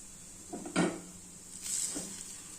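A spoon stirs beetroot curry with salt, chilli and coconut in a pan, giving two distinct close scraping clanks of metal on metal about a second apart over a quiet background.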